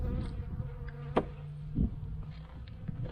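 Honey bees buzz steadily around an open hive during an early spring brood inspection, their continuous insect drone close and moderately loud, with a few louder passes of individual bees flying near.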